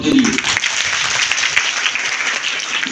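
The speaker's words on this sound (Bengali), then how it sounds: "আজকের এই অনুষ্ঠান থেকে স্যারকে আমরা অভিনন্দন জানাচ্ছি, করতালির মধ্য দিয়ে" Sustained, dense applause from an audience at a farewell reception for retiring teachers, steady and fairly loud throughout with a faint murmur of voices underneath.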